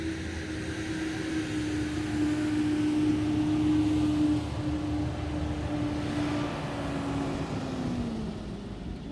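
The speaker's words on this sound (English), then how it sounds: "Noisy truck." A noisy truck passes close by, its steady engine drone and broadband rumble swelling through the middle and easing toward the end, with no talk over it.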